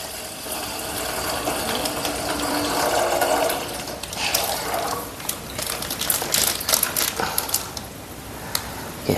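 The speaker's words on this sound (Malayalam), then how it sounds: "പാല് നമ്മൾ അതിനകത്തോട്ട് ഒഴിക്കുകയാണ്." Milk pours steadily into a metal pot, a continuous splashing rush that shifts in tone, ending with a few clinks and small splashes.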